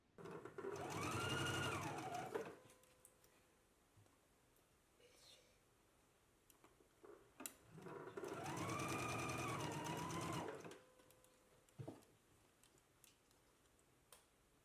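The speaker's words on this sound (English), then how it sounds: "we can go ahead and stitch it in place using a 5/8 of an inch seam allowance" Sewing machine stitching a collar in place on a garment, two bursts of fast, even whirring stitches a few seconds each, close and fairly quiet, with soft handling clicks and faint movement between runs.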